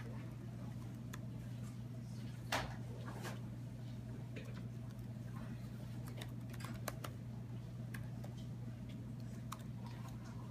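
Light, scattered keystrokes on a Chromebook keyboard as a password is typed in a school setting, faint and irregular clicks over a steady low electrical hum.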